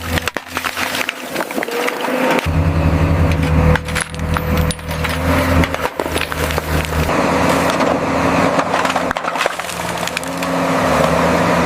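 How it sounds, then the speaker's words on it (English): Heavy metal chains clank, rattle and scrape during handling for towing an abandoned Cold War tank in snow, with a low engine rumble running continuously underneath. "Get the chains, we're taking it with us."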